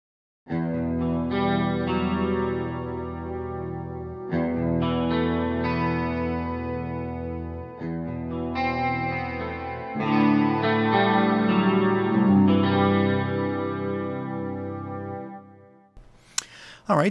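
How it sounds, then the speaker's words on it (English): A clean electric guitar plays a sustained melodic line of single notes with slight grit, running continuously before ending in a sharp click. "Now let's load some single notes and see what those sound like."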